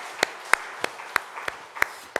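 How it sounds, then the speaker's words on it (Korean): Rhythmic clapping in a Korean church service, with sharp, evenly spaced claps roughly every third of a second, fairly faint and with no voices. "우리 함께 하나님께 감사와 영광의 박수 올려드리겠습니다."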